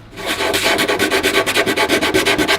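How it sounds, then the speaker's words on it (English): Filler on a PU surfboard ding repair being sanded by hand, a loud, close rhythmic rasp of quick back-and-forth strokes, steady and unbroken with no talk. "you want to try not to sand any of the surfboard around it"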